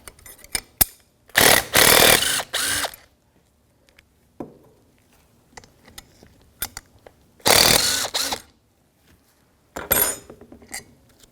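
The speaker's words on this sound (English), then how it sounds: "So now I'm going to dismount that caliper bracket like I did on the old one." Ratchet wrench with a 14mm socket loosening the caliper bracket on a 2011-2017 Honda Odyssey front brake, heard as bursts of quick clicking ratcheting separated by quiet gaps and small metallic clinks.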